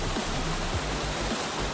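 A waterfall in Viktoria Park, Berlin, pouring steadily over rocks as a dense, continuous rushing roar heard up close, with no voices.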